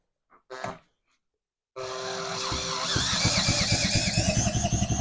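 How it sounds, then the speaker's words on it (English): A Johnson Seahorse outboard engine turns over with a loud, sustained mechanical churn that becomes a steady, rapid pulsing, preceded by a brief faint rattle and a short silence. "have a better chance of turning the engine over."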